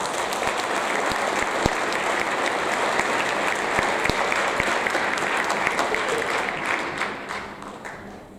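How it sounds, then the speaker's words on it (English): Audience at a sixth grade awards ceremony applauds in a steady, full round of clapping that holds evenly, then thins and fades at the end. "Let's give her a round of applause."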